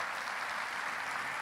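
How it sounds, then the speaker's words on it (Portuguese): Church congregation applauding at a worship service, a steady dense wash of clapping held at even loudness throughout, with no voices over it. "Aplaude a Jesus aí"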